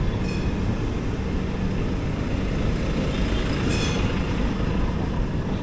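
A train rolls steadily into Kozhikode railway station, a continuous loud rumble of wheels on track with faint squeals, heard close and without talk.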